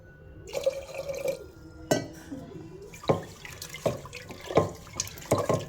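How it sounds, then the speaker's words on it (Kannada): Beetroot and green gram are washed with water in a pressure cooker, bringing irregular splashes, sloshing and sharp metallic clinks in several close bursts separated by short lulls. "2 ಹೆಸರು ಕಾಳು ಮತ್ತು ಬೀಟ್ರೂಟ್ ಎರಡನ್ನೂ ಒಂದು ಕುಕ್ಕರಿಗೆ ಹಾಕಿ ಕ್ಲೀನಾಗಿ ವಾಶ್ ಮಾಡ್ಕೊಳ್ಬೇಕು."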